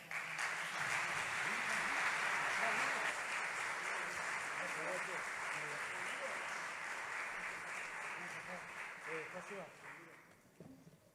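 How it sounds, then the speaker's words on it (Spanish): A concert audience at a Día Internacional del Detenido Desaparecido commemoration applauds a musical duo with dense, sustained clapping that holds steady for about ten seconds before thinning and fading out. "a quien les damos un aplauso."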